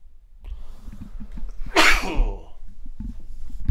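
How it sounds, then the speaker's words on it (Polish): A single loud, close sneeze bursts out mid-recording, amid faint background noise and soft thumps, with no speech. "Ten temat muszę kichnąć."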